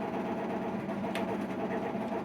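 A sewing machine motor whirs steadily at close range for about two seconds as it backtracks a single stitch, with a faint tick near the middle and no talk.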